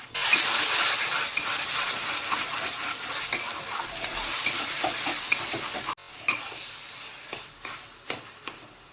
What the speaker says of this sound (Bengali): গ্যাসের ফ্লেমটাকে হাইতে রেখে কচু শাকটাকে আরও 2 মিনিটের জন্য ভালো করে নেড়ে নেব